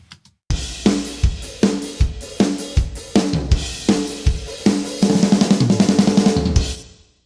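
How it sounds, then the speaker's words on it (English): A big, heavily processed drum kit mix from Cubase Pro 9 plugins pounds out a loud, punchy groove of kick, snare and cymbals, closing with a rapid tom fill that rings out. "to a big drum sound like this."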